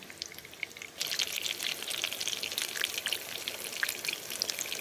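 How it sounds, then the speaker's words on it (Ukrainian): Chicken thighs sizzle in a frying pan, a dense crackling hiss of fat and spitting oil that jumps louder after the first second and stays steady and close, with no talking. "Ще трішечки підсмажу і перевертаю."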